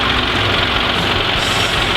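Tractor engine running steadily on a farm during safety training, a constant close rumble with no gaps and no talk over it.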